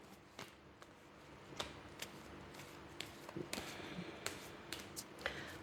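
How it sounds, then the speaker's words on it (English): Tarot cards being shuffled nearby, a quiet run of crisp, irregular riffles and snaps against a soft room hush. "So one more shuffle."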